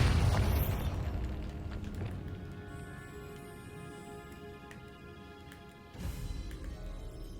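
A Bombarda spell blast in the video game Hogwarts Legacy, a loud booming burst at the start that fades into a lingering rumble, with a second smaller impact thump near the end.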